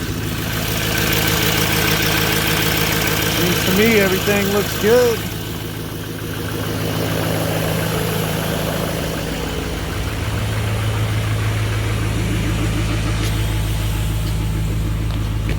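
The 2013 Duramax LML diesel pickup idles just after a fuel filter change, a steady low mechanical rumble running throughout while someone talks close by over it.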